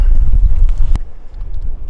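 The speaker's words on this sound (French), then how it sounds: "comme il y a du vent" Wind off Gran Canaria batters the microphone on a boat crossing at sea, with heavy low rumbling gusts and a sharp brief knock near the middle.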